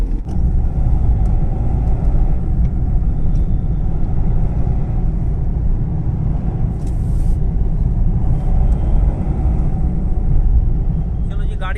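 A diesel Honda City after a major service driven on a road test, a loud continuous low engine and road rumble from inside the cabin with talking over it.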